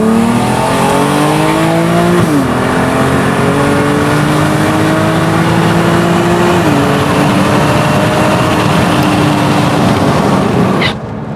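A BMW E36 fitted with an 8HP automatic, accelerating hard up a highway on-ramp in sport mode: loud sustained engine roar climbing in pitch, two quick upshifts dropping the revs, then a sudden rush of wind noise at the end.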